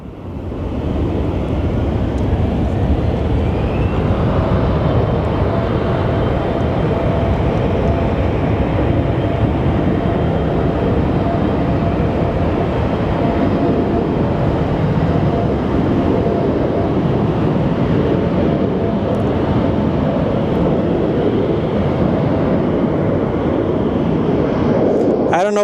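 An airliner passing at Sky Harbor airport, a loud, steady broadband roar sustained for the full length with little change. Voices can be heard faintly beneath it.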